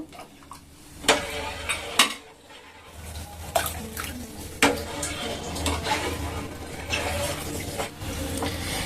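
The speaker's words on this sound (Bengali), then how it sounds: "এইভাবে আস্তে আস্তে করে হাতা দিয়ে একটুখানি নেড়ে আবার দেখুন একটু দিয়ে দেব" A ladle works slowly through milk as vinegar curdles it into chhena in a pot, making soft sloshing and liquid stirring sounds with several sharp metallic knocks against the pot rim.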